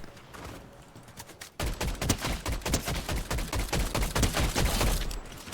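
Rapid gunfire in Fortnite, a dense string of close, loud shots that kick in after a quieter moment and keep rattling with only brief gaps, with no voices over them.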